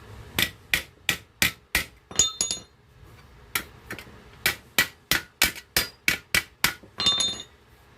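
Dent hammered out of a small boat motor's metal housing, sharp ringing blows in two quick runs of evenly spaced strikes with a brief pause between, plus a few clinking taps.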